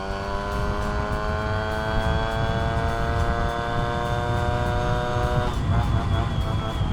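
A single speed moped engine accelerates toward top speed on a slight downhill, its buzzing note climbing steadily and loudly throughout, with wind noise around it.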